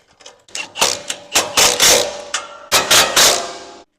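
A ratchet wrench with a 14mm socket tightens bolts on an ABS 250 aftercooler, a loud close run of sharp clicking bursts in two rhythmic groups separated by a short pause.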